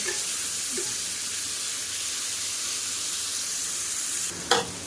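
Chopped onions frying in hot oil with whole garam masala, a steady broadband sizzle that holds evenly throughout, close and moderately loud, with a brief utensil scrape near the end.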